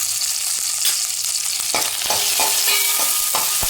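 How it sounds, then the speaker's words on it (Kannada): Onions frying in a pan with dried red chillies for a home-style spinach curry: a steady broadband sizzle throughout, with several sharp clanks and scrapes of stirring in the second half, close and loud, no voices. "ಸ್ವಲ್ಪ 2 ನಿಮಿಷ ಈ ಥರ ಫ್ರೈ ಮಾಡ್ಕೊಳ್ಳಿ."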